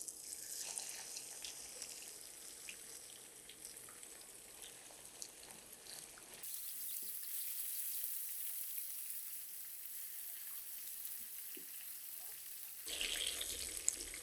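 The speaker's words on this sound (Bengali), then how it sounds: "মাছগুলো এখন ভেজে নিব।" Fish frying in plenty of oil in a frying pan, giving a faint, steady sizzle and hiss with scattered small pops, carrying on evenly for the whole stretch with a brief louder burst near the end.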